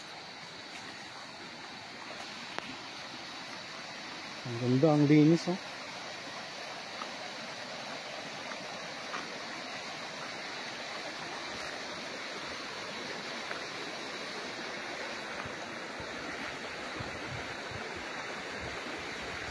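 A river flowing beside a farm lot in Real, Quezon makes a steady, soft rushing hiss throughout, with a voice speaking briefly partway through.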